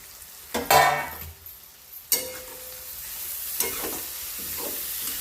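A spoon stirs and scrapes a mash of eggplant bharit in a pan, mixed with crushed peanuts, chaat masala, coriander powder and turmeric. A few separate close bursts of scraping and stirring are broken by quiet gaps.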